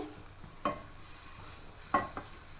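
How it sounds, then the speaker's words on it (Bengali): Raw mung dal is dry-roasted in a pan with a faint low sizzle, broken by two or three sharp scrapes of a spatula against the metal, quiet and close with no talk. "এবার ডালটা খুব ভালো করে কষিয়ে দেবে"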